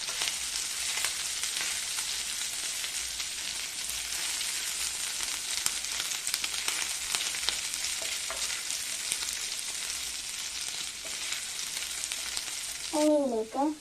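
Garlic, ginger and chopped green chillies sautéing in a pan for chicken chilli, a steady loud dense sizzle throughout with a few faint stirring scrapes, close, no speech.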